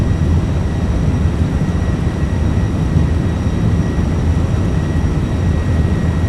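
Airliner jet engines spooling at takeoff power as an MD-11F freighter rolls down the runway in a flight simulator, a steady loud broadband roar with a faint high whine, unbroken throughout.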